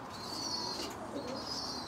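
Spinner pigeons cooing in a loft amid steady, dense background noise, with soft cooing and faint chirps and rustles running throughout.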